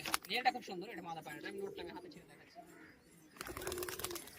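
Low, throaty cooing from giribaz pigeons at a Murshidabad sale drifts under nearby conversation, strongest early on before fading, then crowd noise swells again near the end.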